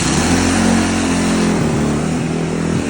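A Kawasaki KX250 dirt bike engine runs loud and close, its rough two-stroke note revving up and briefly dropping off several times in quick succession.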